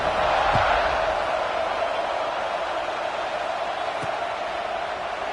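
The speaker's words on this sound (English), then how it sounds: "this crowd is buzzing after that last score" A stadium crowd at a college football game buzzes loudly in a steady wash of cheering and noise after a score, continuous and distant-sounding with no clear individual voices.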